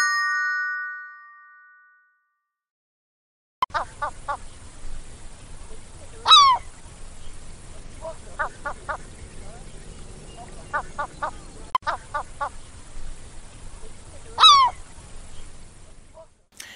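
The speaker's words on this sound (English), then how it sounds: "Down by the quayside, Crabby found Wilf, the seagull, rummaging through some fish and chip papers looking for his breakfast." Seagulls call at a quayside by the seashore, giving sharp yelping cries and several runs of short repeated calls over a steady outdoor background hum. The calls come at moderate distance and alternate with quieter stretches.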